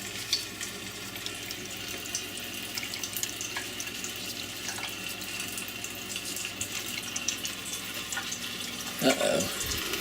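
A newly installed kitchen faucet runs cold water into the sink, a soft steady hiss and splash that goes on throughout and swells briefly near the end.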